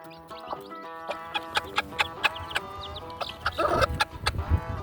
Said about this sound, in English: Mama Hen was already sitting on, how many eggs was she sitting on?